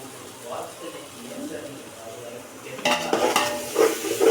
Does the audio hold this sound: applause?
no